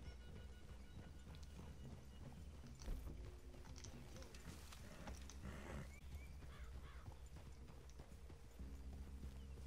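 Horse hooves clip-clop at a steady walking pace in the Red Dead Redemption 2 video game, faint and continuous under a low background rumble.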